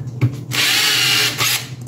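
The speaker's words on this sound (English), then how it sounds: "I like to just drill some shallow holes in the," A power drill bores shallow holes into a quarter-scale rhino prototype model, a steady loud whine of about a second after a short startup blip, with no talking over it.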